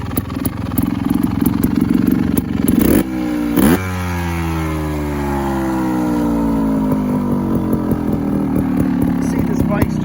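A 2021 Beta Evo 300 trials motorcycle engine revs close by, climbing to a sharp high-pitched rev and then dropping back to a steady idle, with a brief clatter and a few quiet scrapes.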